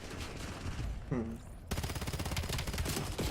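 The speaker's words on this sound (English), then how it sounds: "the sheer amount of nade spam is hilarious. Flashbang going out." Grenade and flashbang blasts in Call of Duty gameplay on PC, rendered as dense rapid bursts of explosive, gunfire-like noise that start abruptly partway through and continue loudly after a brief quieter stretch with a short voice.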